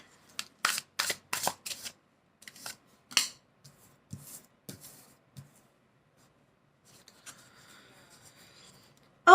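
A deck of tarot cards being shuffled and riffled in quick crisp bursts, several brisk flutters up front, then sparser soft card slaps and slides, followed by quiet handling.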